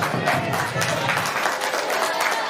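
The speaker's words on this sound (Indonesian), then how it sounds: "Tepuk tangan untuk kalian semua" Applause from participants at a school session on positive culture, a loud, steady wash of clapping throughout with crowd noise blended in.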